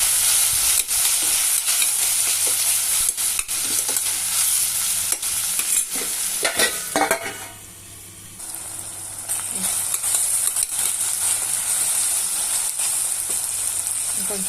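Masala khichdi ingredients with cashews frying in a pan, a loud continuous sizzle with scraping stirs, briefly quieting midway before the hiss returns, no talking.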